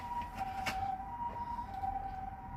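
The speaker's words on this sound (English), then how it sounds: "that's the ambulance that I hear at all hours of the night" An ambulance siren wails faintly from outside, a thin steady tone drifting at a distance beneath quiet indoor room noise.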